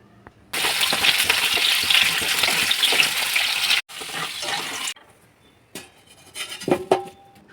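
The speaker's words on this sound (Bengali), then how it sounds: "প্রথমে আলু আর রাঙা আলু গরম তেলের মধ্যে দিয়ে ভেজে নেব।" Potatoes and sweet potatoes frying in hot oil for a Bengali shukto: a loud, dense sizzle runs for about three seconds, breaks briefly, resumes more softly, then gives way to scattered clinks of a utensil against the pan. No one speaks.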